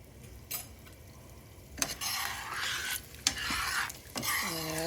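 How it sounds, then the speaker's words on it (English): Tomato pickle hitting hot oil in a pan on medium heat gives a broad sizzle and bubbling frying hiss, with stirring and utensil clinks against the pot in bursts, no talking. "Oil is ready, so put the pickle first"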